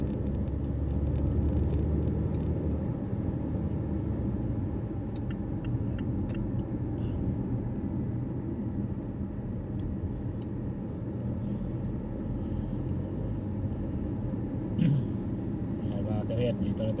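Inside a car driving through traffic in Riyadh, a steady low engine and road rumble runs throughout with faint ticking, while someone talks over the drive.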